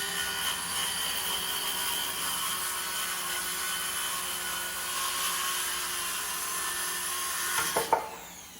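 A power saw cuts wooden 1x6 boards into bottom panels for a DIY wooden fish pond. Its steady, loud whine runs throughout, and a few sharp knocks come near the end as the cut finishes.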